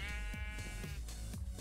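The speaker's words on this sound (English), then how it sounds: "Hi, sheep. Give me your wool." A Minecraft sheep lets out a single wavering bleat, clear and close, over quiet background game music.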